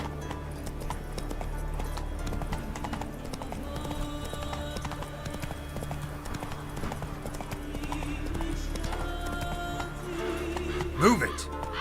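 Hooves clop in a fast, steady rhythm as a horse gallops in The Witcher 3, with game music running underneath and a brief whinny near the end. A voice speaks over it.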